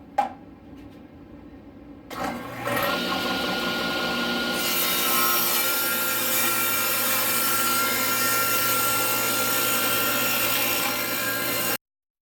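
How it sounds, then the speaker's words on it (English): A hand saw cuts through a wooden ukulele form in a steady, continuous rasping run lasting about ten seconds. The sawing is loud and close, follows a few quieter preparatory knocks, and stops abruptly. "first line up the blade of your saw with the mark that where you want to cut"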